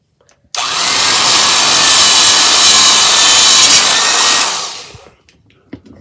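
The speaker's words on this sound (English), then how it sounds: "Now Paul is going to attempt to drill a hole." An old Craftsman electric drill bores a hole, a loud steady whirring grind that starts abruptly, holds for about four seconds, then winds down into faint handling clicks.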